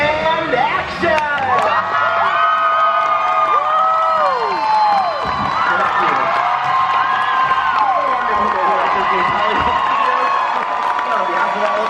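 A crowd cheering, whooping and shouting on the Great Movie Ride at Disney's Hollywood Studios, loud and continuous with pitched yells rising and falling over scattered clapping.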